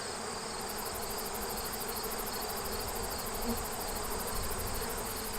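Honeybees hum in a steady, faint drone from an open hive, a continuous buzzing swarm with no talking.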